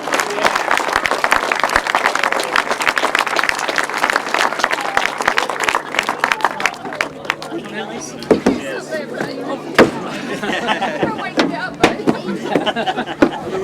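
A grasstrack racing crowd claps loudly and densely at first, the applause thinning into scattered claps and sharp knocks while voices talk over it near the mic.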